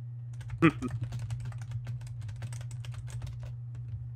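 Clicks of a new computer keyboard being typed on, a quick run of keystrokes over a steady low hum, with one louder clack near the start, fairly close, with faint speech murmuring in the background.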